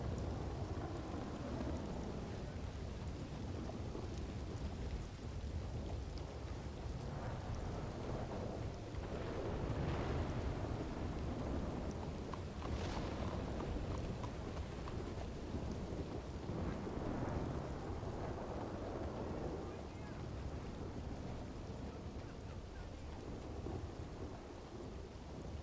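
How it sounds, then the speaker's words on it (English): A loud thunderstorm with steady heavy rain roars without a break, with deep rumbles of thunder swelling around the middle and no voices. "this storm is loud as shit"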